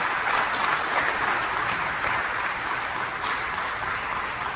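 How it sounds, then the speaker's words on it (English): Steady applause from an event audience fills the space, dense clapping holding at an even level throughout with no speech over it. "Let's give them another great big round of applause."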